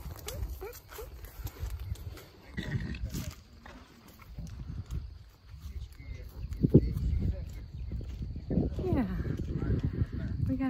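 Hooves clop unevenly on the ground as a horse walks, close by, mixed with rustling, snorting and occasional outdoor noise.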